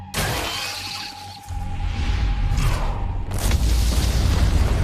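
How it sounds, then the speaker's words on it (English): Anime explosions boom through underground ant tunnels, with a sharp blast followed by rolling, rumbling detonations and shattering debris that swell louder toward the end, heavy and close. "Looks like fireworks are going off in the ant tunnels."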